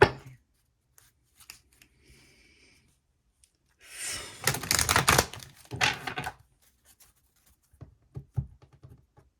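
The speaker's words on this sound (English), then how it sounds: "Let me do one more shuffle." Tarot cards shuffled close up in a quiet room: scattered soft taps and flicks, then a dense burst of riffling in the middle, followed by a few light card taps.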